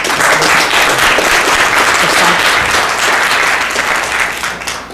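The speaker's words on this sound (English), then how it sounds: "let's give a warm round of applause to Mr." An audience gives a warm round of applause for a speaker at a cloud computing event, dense continuous clapping from a crowd that holds strong before tapering off abruptly at the end.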